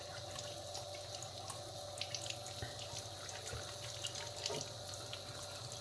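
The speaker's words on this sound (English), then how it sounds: "Okay, now you can wash hands." Water runs steadily from a kitchen tap during hand washing while making crème brûlée, a close, constant splashing hiss with faint drips and small clinks, no talking.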